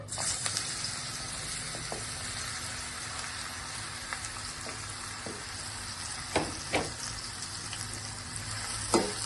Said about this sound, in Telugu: బీరకాయ ముక్కలు వేసేద్దాం దానిలో మిరకాయ ముక్కలు వేసి ఫ్రై చేసుకున్నాను